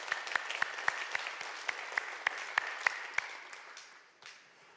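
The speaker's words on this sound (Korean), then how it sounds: "우리 박수로 감사의 마음 전합시다." A church congregation claps at a Sunday worship service, faint and fairly far off, with sharp hand claps in a steady even beat that taper and fade toward the end.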